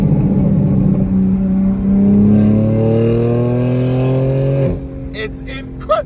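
BMW G82 M4 fitted with a Valvetronic exhaust, revving loud and close, its engine note climbing steadily for several seconds before cutting off abruptly, then a brief quieter burst.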